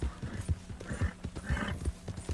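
Horse galloping in a cowboy video game, rapid rhythmic hoofbeats close and loud throughout, with a neigh mixed in.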